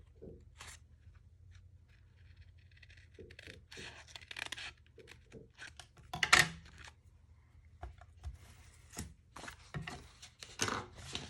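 A blade cuts through a stack of paper squares on a cutting mat, making soft scratchy scrapes and light taps at irregular intervals, quiet and close, with a sharper click about midway.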